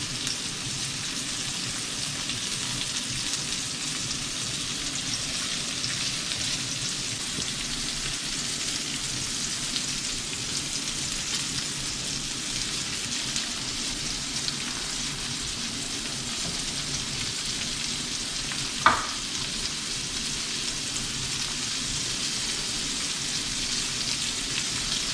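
Deer liver and buck heart fry in a pan with a steady, even sizzle and hiss that runs throughout, broken once by a brief click.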